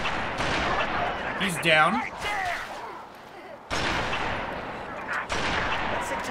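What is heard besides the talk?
gunshots in the video game Halo 3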